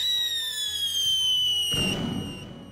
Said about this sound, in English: Next up, we got the Corolla Rot Blinker.